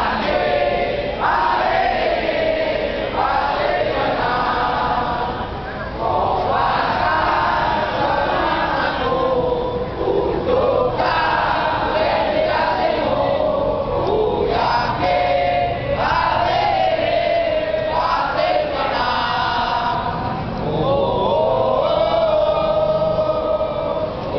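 A large crowd at a Trisakti University solidarity rally sings the university song "Usakti di dadaku" together, loud and continuous with a chanted melodic rhythm, the mass of voices filling the whole stretch.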